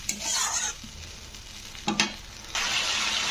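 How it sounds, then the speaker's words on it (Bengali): Kalibaus fish curry simmering in an oily gravy in a pan sputters and sizzles up close, with a few louder bursts of stirring and a brighter hiss rising near the end. "তো এবারে গ্রেভিটাকে একটু ফুটিয়ে নিতে হবে।"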